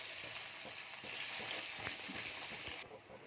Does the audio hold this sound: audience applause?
no